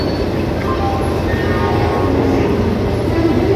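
Stationary passenger train at a busy Howrah station platform, a steady loud low rumble of idling rail cars and station hubbub filling the whole stretch without a break.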